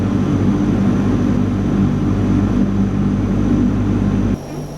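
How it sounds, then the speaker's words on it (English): A Convair 580 turboprop airliner's engines run before takeoff, giving a loud, steady low drone. The drone drops suddenly near the end. "Okay, so it's going to be my takeoff."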